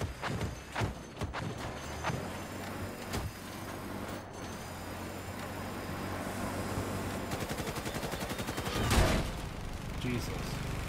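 Gunfire rings out in a video game, sharp scattered shots early on, then a long stretch of rapid automatic fire with a loud blast near the end. Mechanical clatter and talk run beneath.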